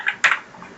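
A couple of close, crisp clicks as a key is pressed on a computer keyboard, brief and isolated in a quiet room.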